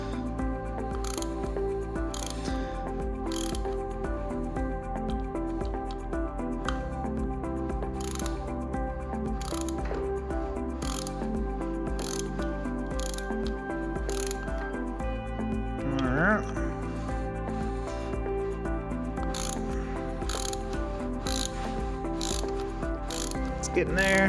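Kawasaki race clutch bolts on a 2017 motorcycle are snugged with a ratchet, giving rapid repeated clicking bursts over a steady mechanical hum, close by, with a brief voice partway through.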